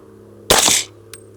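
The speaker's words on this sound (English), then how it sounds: "and one more shot" A single subsonic .300 Blackout rifle shot firing a 200 grain FMJ round, a sharp loud crack with a short tail outdoors, followed by a faint small click.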